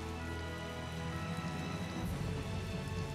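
Rain falls in the Tales of Vesperia video game as a steady wash of hiss and patter, dense and even throughout, with a low rumble joining partway through.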